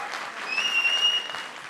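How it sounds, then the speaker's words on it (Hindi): An audience claps at a Netflix series trailer launch event. The applause is brief and moderately loud, and a thin whistle-like tone sounds over the middle. "उनके लिए जोरदार तालियां हो जाए"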